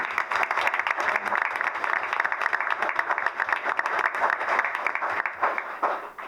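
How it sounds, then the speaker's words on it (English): An audience at a Farmington Town Council meeting gives a round of applause: dense, sustained clapping from many hands that runs steadily, then tapers off near the end. "So quick round of applause for everybody here."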